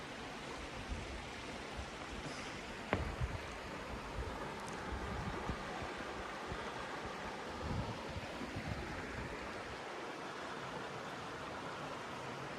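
Lewis Creek rushes steadily near a covered bridge in Charlotte, Vermont, a constant broad outdoor water hiss with an occasional faint click, no talk.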